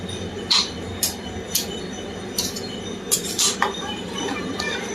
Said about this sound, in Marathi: कंटिन्यू हलवत राहायचं आहे दुधाला